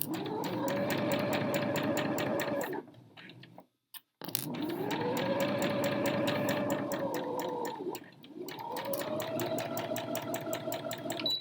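A sewing machine stitches a curve in fabric, its rapid rhythmic whirring running loud and close in two long bursts with a brief stop between.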